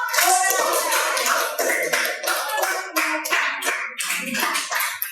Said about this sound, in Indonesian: kita berikan tepuk tangan dulu untuk kelompok